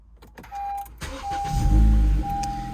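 A 9th-generation Honda Civic fitted with a test pipe starts up: a starter whir, then the engine catches into a loud, deep rumble that settles into a steady idle, recorded close with no talking.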